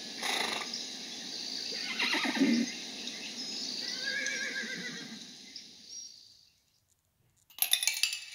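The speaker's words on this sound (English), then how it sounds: "Horses." A horse neighs in a long, loud whinny that rises and trails off, followed by a short silence and a burst of clinking sounds at the end.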